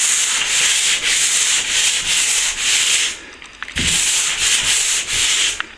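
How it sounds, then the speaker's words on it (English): Abrasive sanding of dried plaster over plasterboard joins, loud and close, in long back-and-forth strokes with a short pause midway, no voices. "Sand it back hard enough."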